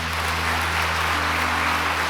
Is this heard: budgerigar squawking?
no